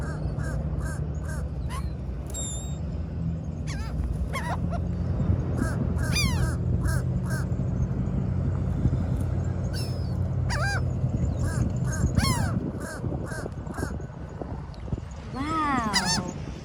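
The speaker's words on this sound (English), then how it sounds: "look at the seagulls" Seagulls calling at a beach during a picnic, repeated sharp squawks scattered over a steady wash of surf and wind, some near and some farther off, with a voice talking at times.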